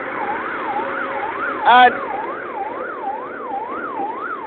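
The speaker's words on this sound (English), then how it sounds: "You can hear the siren." An emergency vehicle siren wails on the road, its rising and falling tone sweeping steadily and fairly close, with a brief horn blast partway through and a single spoken word.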